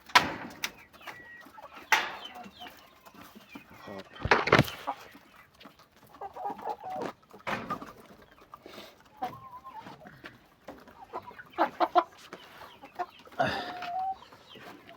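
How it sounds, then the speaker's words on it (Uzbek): A lone hen left outside the coop clucks intermittently at close range, short scattered calls broken by rustling, handling noises and a few soft bumps. "Bitta tovuq tashqarida qolib ketib qolibdi."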